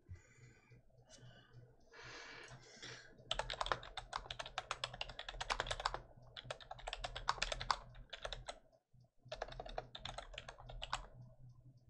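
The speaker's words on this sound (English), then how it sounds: "No, he's typing." Typing on a computer keyboard, with bursts of rapid clicking keystrokes broken by short pauses, fairly close but quiet, with no talk.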